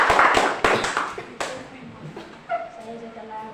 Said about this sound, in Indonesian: Kasih tepuk tangan dulu untuk Kevin.